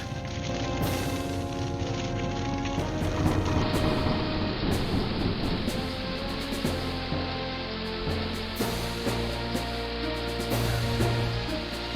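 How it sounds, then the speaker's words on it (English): Thunderstorm with steady rain conjured by a spell in the King's Quest 3 Remake video game, a dense continuous hiss of rain with low rumbling underneath and game music tones layered over it. "maybe we need to start a storm"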